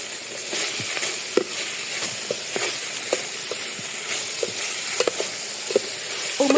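Curry paste sizzles and fries in a pot for a fish and pickled bamboo shoot curry, with steady crackling hiss broken by regular scrapes and knocks of a spoon stirring against the pot.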